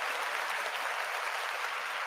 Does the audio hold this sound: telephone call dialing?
no